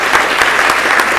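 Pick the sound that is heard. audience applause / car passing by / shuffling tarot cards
audience applause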